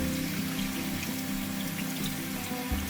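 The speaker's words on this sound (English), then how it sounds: "We'll put it in a sieve and then run it under the cold tap." Sushi rice is rinsed in a sieve under a cold kitchen tap, a steady close rush of running water with light splashing and trickling throughout.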